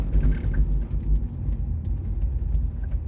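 A 25-year-old Alfa Romeo 156 is heard from inside while driving, a steady low rumble of engine and road noise with small ticks and rattles scattered over it, no talking.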